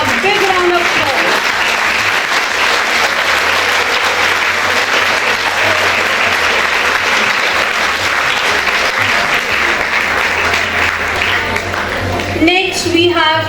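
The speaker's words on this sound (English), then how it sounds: "A big round of applause." A large audience at an academic award ceremony gives loud, continuous applause that runs throughout, with a voice speaking over it briefly near the end.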